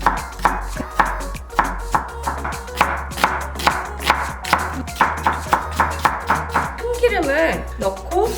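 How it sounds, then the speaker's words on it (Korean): A knife slices vegetables thinly for abalone porridge, giving a steady run of quick, crisp chops on a cutting board, close and clear, with a brief clatter near the end. "이제 전복에 들어갈 채소를 좀 썰 건데 많이 안 넣을 거예요. 최대한 얇게 썰어서 이 정도만 넣을게요."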